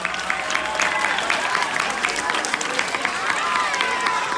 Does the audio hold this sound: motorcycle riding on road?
no